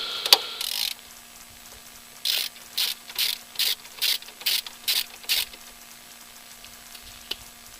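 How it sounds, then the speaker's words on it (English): A hand ratchet loosens an oil pan bolt on a GMC 3500 truck with a 454 engine, clicking close and loud, first in a short burst and then in about eight quick, even strokes with brief pauses between them. "Gonna have to use the ratchet."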